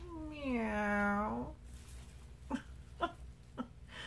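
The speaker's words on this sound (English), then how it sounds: "Meow, meow." An adult cat gives a single drawn-out, rising-and-falling meow, followed by a few soft clicks and taps in a quiet room.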